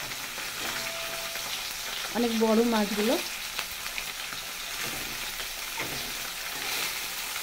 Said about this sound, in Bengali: কেটে বেশ একটু ঢাকা তেলে ভেজে নিচ্ছি।